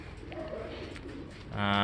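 Racing pigeon cooing at close range, a few soft low murmuring coos amid background noise, followed by a sudden louder steady tonal sound at the end.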